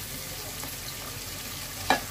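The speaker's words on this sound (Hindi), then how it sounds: "गोश्त डाल के भूनूंगी उसमें गोश्त को भी भूनना चाहिए उसमें मसाले में" Meat fries in a spiced masala in a home kitchen, a steady low sizzle with faint stirring and one sharp clink of a utensil near the end, close and without talk.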